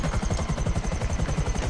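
Steady thumping helicopter rotor drone in Grand Theft Auto Online, loud and constant, with a rapid pulsing beat throughout.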